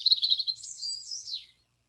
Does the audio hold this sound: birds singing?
yes